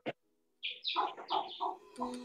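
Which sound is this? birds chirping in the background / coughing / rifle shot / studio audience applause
birds chirping in the background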